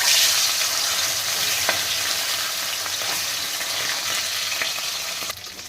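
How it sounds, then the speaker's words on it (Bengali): Fish sizzling steadily in hot oil in a home kitchen pan, a continuous close crackle with a few sharper pops, no voices. "তেলটা আমার খুব ভালোভাবে গরম হয়ে গিয়েছে। এবারে আমি মাছগুলো দিয়ে দেব।"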